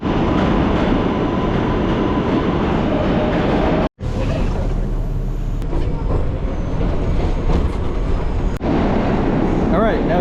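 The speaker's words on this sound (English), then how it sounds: "we are going to jump on the subway" A New York City subway train roars loudly along the tracks with constant rumbling and rattling, briefly cutting out before the clattering ride continues.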